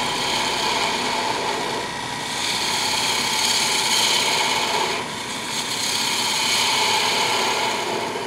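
A wood lathe spins a turned four-sided jar while a tool scrapes lightly across it, a continuous rough whirring drone with a brief dip in the middle, no voices.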